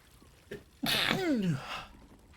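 A single loud sneeze from a character in the video game Baldur's Gate 3, a short intake followed by a sharp burst, heard alone and close.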